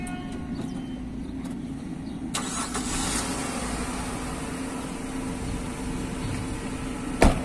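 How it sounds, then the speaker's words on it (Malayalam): A car engine being started before an engine flush, a steady mid-pitched running hum with a couple of brief higher clicks and a sharp knock near the end, faint and fairly close. "ഇനി നമുക്ക് വണ്ടി സ്റ്റാർട്ട് ചെയ്യാം."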